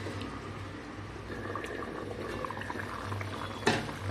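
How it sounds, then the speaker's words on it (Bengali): Curry gravy with fried eggs bubbles steadily in a pan, a soft continuous simmering hiss with faint pops and a single sharp clink near the end, quiet and close. "তো ডিম দিয়ে পুরো ঝোলটা ফুটে গেছে"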